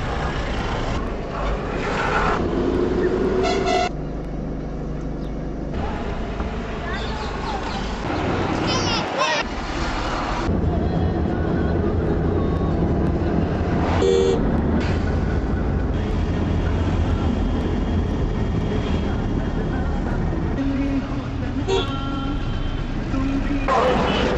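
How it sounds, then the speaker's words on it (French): Dense highway traffic on the road to Delhi and Agra rumbles past with heavy trucks, engines droning and changing as vehicles pass, while sustained horn blasts sound at intervals and voices talk over the din. "Sur cette route qui mène vers Delhi, Agra, il y a énormément de circulation."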